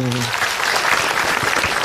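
Brief burst of applause for a young girl on an Islamic children's show, a studio audience clapping densely right after a voice cuts off.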